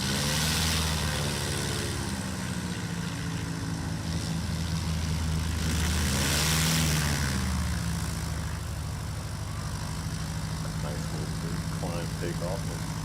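Light STOL aircraft taking off at a Music City STOL competition in Gallatin, Tennessee, its engine a continuous droning roar that swells in the middle, heard from a distance under an announcer's talk.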